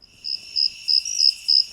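Crickets chirp in a crisp, high pulsing pattern, five or six short bursts spaced evenly against near silence, close and clear with no voices.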